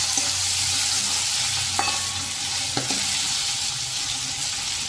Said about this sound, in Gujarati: કાંદાને સરસ રીતે પાકવા દેશું। કાંદાનો થોડોક બ્રાઉન કલર થઈ જાય ત્યાં સુધી કાંદાને પાકવા દેવાના।